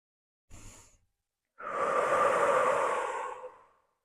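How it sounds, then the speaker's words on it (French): A slow, deep breath in followed by a long, loud exhale during a guided sound-healing session; the short inhale comes first, then a broad breathy outflow lasting about two seconds, close and alone. "en prenant 3 grandes inspirations"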